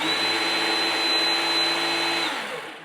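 A Fanttik NB8 Fold pressure sprayer's motor switches on into a steady, close, loud whirring hum that holds evenly for a few seconds and then winds down, with no voices.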